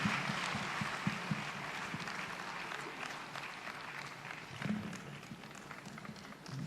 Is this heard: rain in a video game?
no